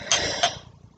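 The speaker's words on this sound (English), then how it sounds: "Ignore my coughing." Two quick, close coughs in a row, sharp and breathy, fading into quiet.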